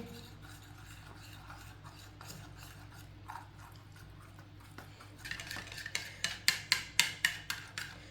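Spiced potato tikki mixture with flour, salt, red chilli and turmeric is stirred in a bowl, giving soft scraping at first and then a run of sharp, rhythmic clinks of a utensil against the bowl, close and fairly loud, with no talk.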